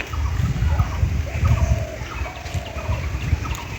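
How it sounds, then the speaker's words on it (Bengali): Birds call in a village bamboo jungle, brief tonal chirps and calls sounding at a moderate distance over a steady low rumble of outdoor background noise. "পাখির ডাক শুনতে পাচ্ছেন।"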